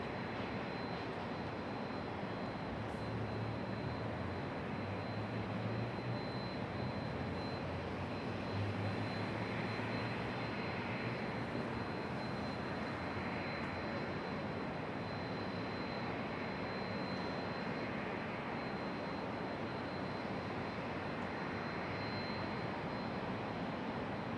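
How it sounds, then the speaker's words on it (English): A Delta Boeing 757 sits on the ground at Raleigh-Durham International getting ready for departure, its engines producing a steady, distant jet whine and low rumble with no talk. "Got a Delta 757 here on the ground as well"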